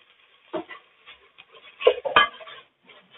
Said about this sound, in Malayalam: അപ്പൊ ഒന്ന് ഇളക്കി കൊടുക്കുക.